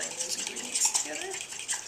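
Muffin batter ingredients, vanilla among them, being stirred together in a bowl, with a utensil scraping and clinking lightly against the sides in quick, close strokes.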